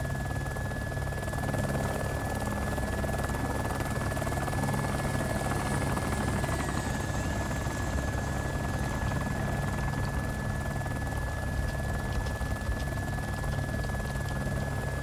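A helicopter in the video game Arma, set in Takistan, flies with a loud, continuous rotor drone and engine whine that holds steady throughout, with no speech over it.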